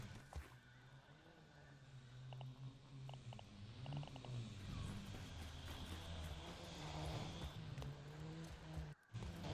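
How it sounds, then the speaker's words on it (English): Zipline rides in the video game Grounded, sounding like RC cars revving off: a steady whirring motor drone with rising and falling pitch sweeps, fairly loud and continuous, with a brief dropout near the end. "Feels like RC cars going off with the zipline audio delayed"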